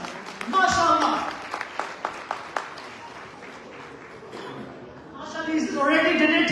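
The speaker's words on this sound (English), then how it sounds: "big round of applause" Audience applause breaks out for a $10,000 donor at a fundraising gathering, loud clapping swelling at the start and again near the end, with a few separate sharp claps between and voices underneath.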